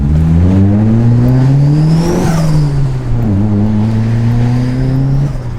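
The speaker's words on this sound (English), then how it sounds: "It's running really lean and it's got a really lumpy idle" A turbocharged Mitsubishi Lancer engine runs lean with a lumpy idle, its loud, close drone rising and falling in pitch through several rev swells over a few seconds, with no talking.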